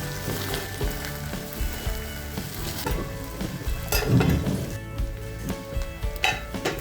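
Rice flour latte cooks in a covered pan with a steady, dense sizzle and frying hiss, occasional clinks of utensils and pan, close and continuous without talk.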